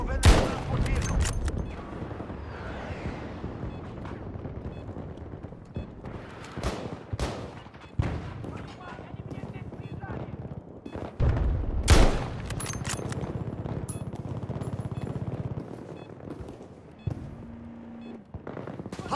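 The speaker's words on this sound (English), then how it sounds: "Taking heavy fire." Heavy gunfire in a Battlefield 2042 harbor battle: dense overlapping rifle and machine-gun bursts with occasional booms, loud and continuous, with callouts spoken over the shooting.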